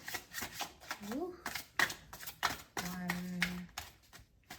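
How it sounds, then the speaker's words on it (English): Tarot deck being shuffled during a card reading, a few brisk riffling bursts in quick succession with someone speaking over and between them. "a couple more shuffles"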